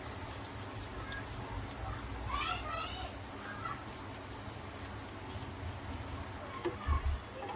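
Poha (flattened rice) with turmeric cooks in a pan with a soft, steady sizzle and some stirring, and a voice is briefly heard.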